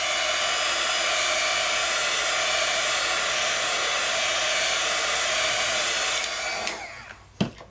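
A heat tool blows steadily over alcohol ink on paper, giving a loud, even whooshing hum. Near the end it switches off and winds down, followed by a couple of sharp clicks or knocks.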